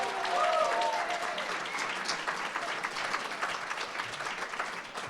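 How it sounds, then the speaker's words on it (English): Sustained applause from an audience honoring environmental stewardship award winners at an evening ceremony, a dense steady clatter of many hands that slowly thins, with a faint voice briefly over it at the start. "Let's give all of our winners tonight one more round of applause."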